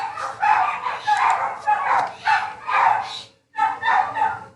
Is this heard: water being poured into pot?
no